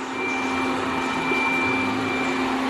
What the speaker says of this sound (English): no, Mr. Vacuum, you're supposed to be getting the tree.